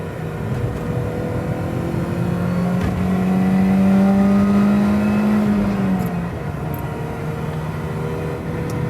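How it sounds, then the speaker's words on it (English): A supercharged Mini Cooper S engine revs up steadily through a gear, its rising engine note and supercharger whine strong and close for several seconds before easing off, with no talking. "Supercharger sounds good. Pulls pretty well."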